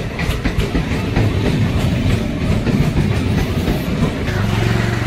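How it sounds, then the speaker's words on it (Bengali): A train pulls into Sovabazar station on Kolkata's circular railway with a loud, steady rumble and rhythmic clatter of wheels on track, close by and filling the whole stretch. "এই দেখুন ট্রেন আসছে, এই ট্রেনটি শোভাবাজার চক্ররেল স্টেশনে দাঁড়াবে।"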